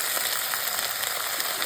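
Ingredients frying in a pan for a kosu khakor (cabbage) dish, a steady, close, even sizzle with faint crackles throughout and no talking.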